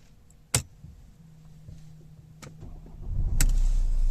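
A high-mileage Mercedes C Class Estate with 99,000 miles cranks and fires up on the push button near the end, after a few sharp clicks and a low idle hum, building into a steady close engine rumble.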